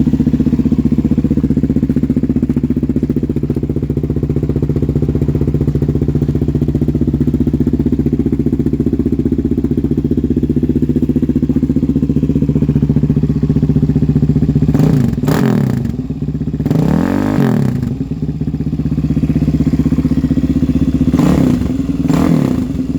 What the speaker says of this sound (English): a nice stepped exhaust header, and yeah, it's pretty loud